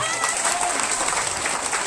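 An audience claps at a school welcome programme, a dense, steady burst of applause from a crowd with a voice mixed in underneath.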